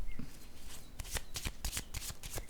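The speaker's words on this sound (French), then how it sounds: "Je vais déposer une autre carte ici." Tarot cards are handled and laid down on a table, giving a close, quick run of crisp papery slaps and flicks.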